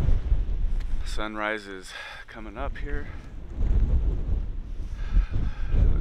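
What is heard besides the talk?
strong wind on the microphone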